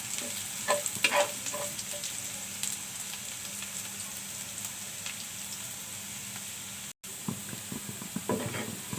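Onions fry in a pan while mixed greens are being cooked, giving a steady close sizzle with scattered spoon-stirring scrapes and clinks and a brief dropout near the end.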